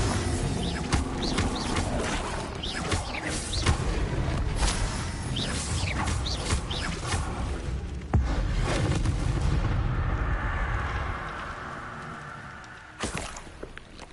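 Bombarda blasting spell cast in the Hogwarts Legacy video game, a dense run of booming, crackling impacts and debris that carries on loud for several seconds, then trails into a quieter rumble before one last short hit near the end.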